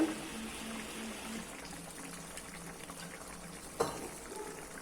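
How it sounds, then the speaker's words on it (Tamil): Thick egg curry gravy bubbles softly in a pan, a quiet steady simmer with one small clink partway through. "இப்போ பாருங்கள், குழம்பு கொதிச்சிருச்சு."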